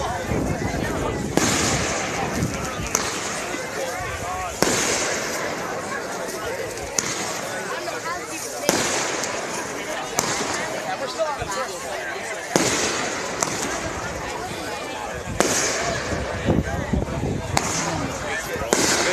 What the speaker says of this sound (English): Oh, firecrackers. Big roll of firecrackers.